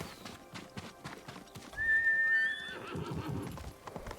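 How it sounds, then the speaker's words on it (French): A horse in the Ghost of Tsushima video game trots up with steady clip-clopping hooves, then lets out a loud, clear whinny before the hoofbeats carry on. Game ambience sits underneath. "Allez, viens là, mon cheval."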